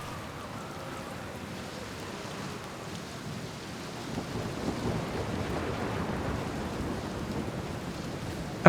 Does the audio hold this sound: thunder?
yes